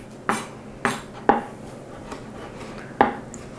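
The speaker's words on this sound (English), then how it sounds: "You want to chop them up so that each little bite of steak also comes with a yummy bite of scallop." A knife chops raw scallops on a cutting board, producing five sharp, separate knocks at an uneven pace, close and clear against a quiet kitchen.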